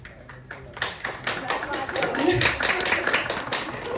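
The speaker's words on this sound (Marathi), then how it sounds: "जोरदार टाळ्या" Applause at a Marathi comedy press conference: a dense, steady patter of many hands clapping that keeps building, with voices mixed into the crowd noise.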